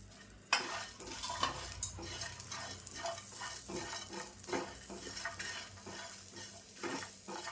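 Dry coconut and whole spices roasting in a pan with ginger and garlic, a steady close scraping stir of a spoon against the metal with frequent clinks and soft crackle, no voice.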